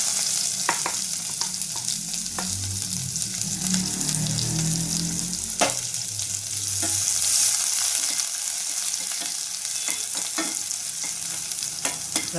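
Chopped onion and curry leaves fry with bitter gourd in a pan, a close, steady sizzle broken by scraping stirs and occasional sharp pops. No one speaks.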